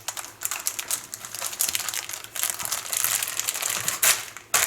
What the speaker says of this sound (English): I just start to zip it slowly.